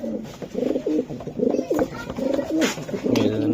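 Racing pigeons coo close by in repeated throaty rolling calls and short bursts over a faint background murmur.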